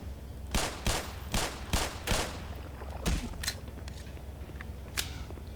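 Gunfire rings out in the video game Black Mesa: a run of about six sharp reports in uneven rhythm, then a few scattered shots and clicks over a low ambient hum.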